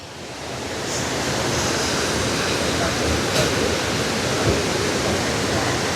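Floodwater rushes fast through large channels after a storm, a loud, steady broadband roar that swells in the first second and then holds.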